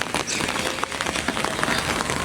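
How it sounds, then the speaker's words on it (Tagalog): Light drizzle falls on a rainy afternoon, a soft steady patter of fine drops on nearby surfaces, continuous and fairly quiet with no talking. "Maulan talaga. Ayan, umaambon."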